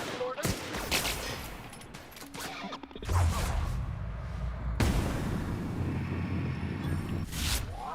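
Pistol shots ring out in The Outer Worlds during a fight against enemies, a burst of sharp cracks followed by sustained loud in-game combat noise and rumble.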